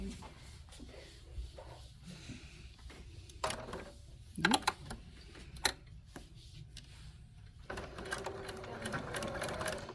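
Sewing machine stitching a fidget toy corner to corner with a different presser foot fitted, a steady quiet mechanical whir with short clicks and ratcheting bursts, with people talking between stitches.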